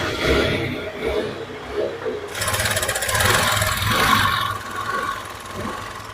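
A Honda Activa scooter engine runs steadily before a crank rebuild, a continuous mid-pitched mechanical hum that rises into a brighter, busier whine partway through and stays fairly loud throughout.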